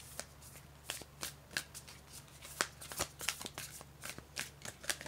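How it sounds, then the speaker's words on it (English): A brand-new deck of playing cards is shuffled, giving a quick series of crisp riffling snaps and flicks, close and quiet, with no talking. "These are hard to shuffle."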